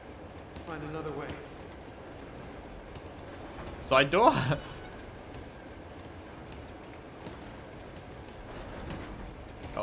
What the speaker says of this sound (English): This train goes off the rails.